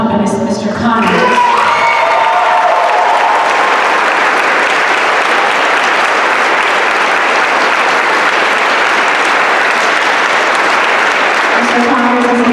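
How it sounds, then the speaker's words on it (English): Loud, sustained audience applause with cheering fills a school choir concert hall, a dense wash of clapping that swells after a brief opening and continues steadily, with voices briefly audible at the start and end. "So a huge round of applause for our incredible accompanist, Mr. Conyers."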